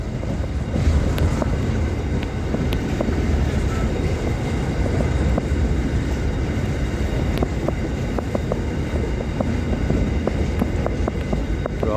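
An Australian freight train rolls through a steel-works yard, a steady loud rumble of wagons and wheels with scattered metallic clicks and wind buffeting the microphone throughout.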